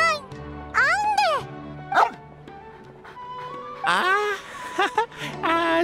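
A small dog in Genshin Impact gives several short, high barks and yips, close and loud, spaced between stretches of spoken dialogue.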